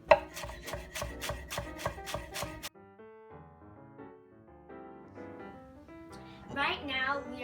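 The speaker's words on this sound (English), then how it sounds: "Right now, we are cutting the garlic." A knife cuts garlic on a cutting board in a rapid run of about nine sharp, even chops. A short pause follows, then music takes over at a moderate level.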